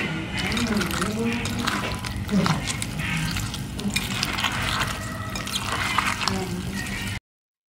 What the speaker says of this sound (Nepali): करेलालाई मजाले मोलिसकेपछि सफा पानीमा 3-4 पटक यसरी राम्रोसँग धुनु होला।